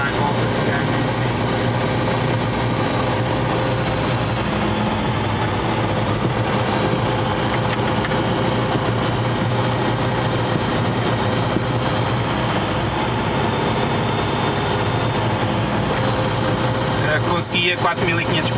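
A Dynamic WT9 light aircraft's engine drones steadily and loudly at Covilhã airfield, a constant cabin roar filling the whole stretch while people talk over it.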